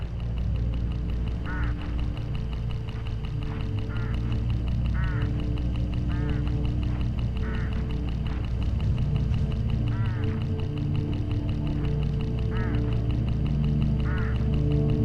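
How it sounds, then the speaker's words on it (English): Hooded crows call in short repeated bursts along a road in the Hitchhiker mystery game, fairly evenly spaced over a constant low engine-like drone. "Look, hooded crows all along this road."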